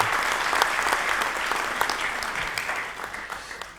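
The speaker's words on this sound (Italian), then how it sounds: "Facciamo un applauso anche" Audience at a book presentation in Roverbasso breaks into warm, steady applause, many hands clapping together at moderate distance, tapering off toward the end.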